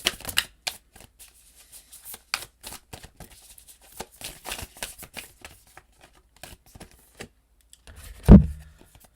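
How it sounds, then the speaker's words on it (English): Spirit animal oracle cards are shuffled and pulled by hand, producing a close, crisp series of irregular paper flicks and riffles, ending with a louder soft thump as a card lands. "We're going to start by pulling some spirit animal cards."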